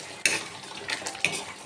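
Ghee is stirred into cooked rajma in a pot, a spoon scraping and knocking against the metal in a few distinct clinks over a faint simmering sizzle.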